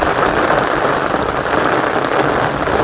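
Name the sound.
heavy monsoon rain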